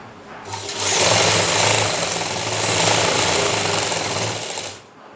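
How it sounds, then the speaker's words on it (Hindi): A sewing machine runs a trouser seam in one continuous, fairly loud whirring burst of stitching lasting about four seconds, then stops, with no talk. "अब इसको नीचे इसी तरीके से सिलाई ले जाएंगे"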